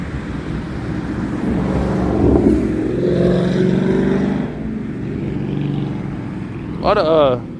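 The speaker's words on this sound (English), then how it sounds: "A lot of throaty cars out tonight." A throaty car engine rumbles and climbs in revs on a city street at night, passing fairly close and loud, with wind buffeting and a brief voice near the end.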